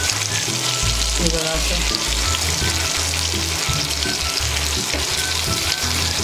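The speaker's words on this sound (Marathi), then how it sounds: "आता आपण या बांगड्यांना परतून घ्यायचं आहे।" Bangda, Indian mackerel, fries in a pan in a Malvani-style fish fry, a loud continuous sizzle and crackle of hot oil close up, with a brief spoken word over it.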